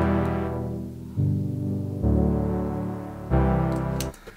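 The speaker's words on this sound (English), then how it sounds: "It's just a Serum preset that sounds like this." A sustained synth lead from a Serum preset, made for an EDM drop, holds thick harmonic chords that shift to new pitches several times, steady and fairly loud with no voices.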